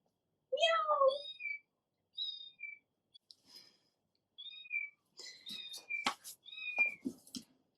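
A small cat meows in a home with a baby nearby, a strong drawn-out meow up front followed by several shorter chirpy cries, then a burst of clattering and mixed noises near the end.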